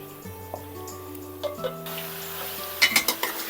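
Marinated country chicken, about one and a half kilos, goes into a pan of frying ginger garlic paste for a Telangana natukodi pulusu, bringing a sharp rise in sizzling and clattering stirs that grow louder toward the end.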